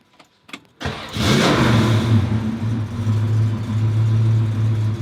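A Ford Mustang engine cranks and catches after a couple of clicks, then revs up loudly and holds a steady, throaty roar close by.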